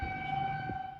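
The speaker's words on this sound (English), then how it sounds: "activating its tornado sirens early Saturday morning to warn residents to evacuate because of flooding in the area" Tornado sirens sounding early on a Saturday morning in Rock Valley, Iowa, warning residents to evacuate during flooding: a steady, sustained wail with a low rumble underneath, fairly faint and continuous, with no voices.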